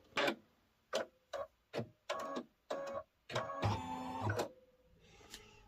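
An embroidery machine stitches a zipper purse in the hoop, working in short separate bursts of mechanical clatter followed by one longer run and a softer tail.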